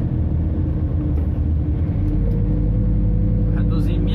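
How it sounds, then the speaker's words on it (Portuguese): Truck engine braking on a downhill stretch of the PI-324 highway at Barra da Volta, a loud, steady low engine rumble and drone from inside the cab, heard throughout. "liguei o freio motor, já tô reduzindo minha velocidade aqui em cima"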